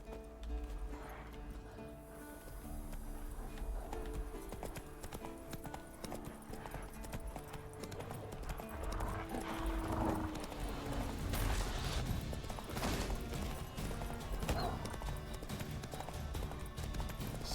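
Roach the horse galloping in The Witcher 3, a fast steady clip-clop of hooves running under game music and ambience, rising in intensity toward the end; no talking.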